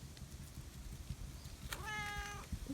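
A single cat meow with a rising, harmonic tone, rather close, over a low background rumble and faint outdoor noise.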